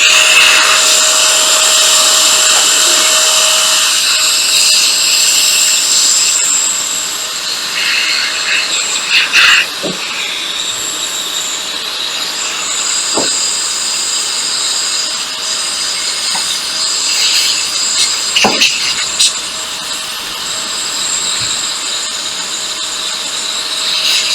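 A hot air blower preheats a PlayStation circuit board during an HDMI encoder replacement, producing a loud, steady airy hiss and whine that runs throughout with a few faint clicks.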